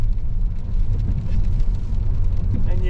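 A 1-litre EcoBoost turbo car with a noisy exhaust rumbles steadily nearby, a broad continuous low drone holding at a fairly loud level throughout with no voices.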